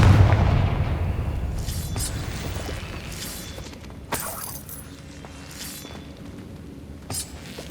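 A heavy Confringo spell explosion in Hogwarts Legacy opens with a deep rumbling boom that slowly decays, followed by scattered crackling debris and two sharper impacts later on.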